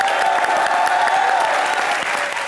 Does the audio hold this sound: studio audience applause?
yes